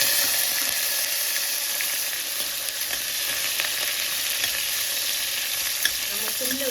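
Onion fries in hot oil with cinnamon and cloves in a pressure cooker, giving a loud, steady, dense sizzle and hiss that stays even throughout with no talking.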